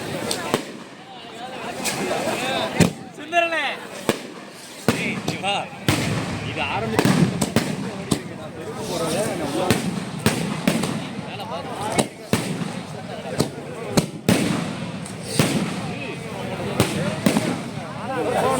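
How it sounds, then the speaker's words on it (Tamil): Colourful fireworks at a Tamil temple festival burst continuously, with sharp cracks and pops piling up over a steady crackling roar, close and loud, with voices talking underneath. "அப்படியே கலர் கலராக வெடிக்க பாருங்க"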